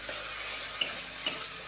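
Ground spice paste sautéing in a pan in a home kitchen, a steady close sizzle with two short sharp spatula scrapes against the pan, no talk.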